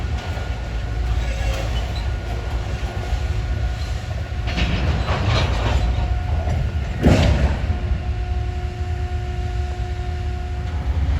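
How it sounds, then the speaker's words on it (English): A Finger Lakes Railway freight car rolls down a yard track during flying switches, giving a loud steady rumble of wheels on rail with a rising clatter and a sharp metallic screech near the end. "See that one car coasting down the yard track."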